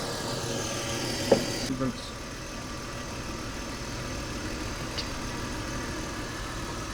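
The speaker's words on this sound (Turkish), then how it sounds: "Ne kadar sessiz çalışıyor motor" BMW E39 530i engine idling quietly: low steady rumble throughout with a brief click and shift early on, voices talking over it in the background.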